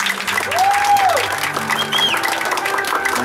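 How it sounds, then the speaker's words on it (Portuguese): Loud audience applause with some cheering during a surprise tribute, a dense clapping wash with a whistle-like rising and falling tone and a low hum beneath it. "Uma salva de palmas pra ele,"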